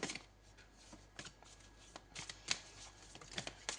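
Tarot cards are shuffled and drawn by hand, giving a string of crisp riffling and flicking bursts, close and fairly quiet, with no talk.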